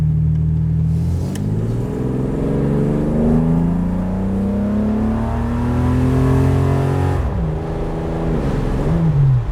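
Holden VH Commodore engine in sport mode revving up through rising pitch, a steady close rumble that climbs, drops at a gear change, then climbs again, with no talk over it.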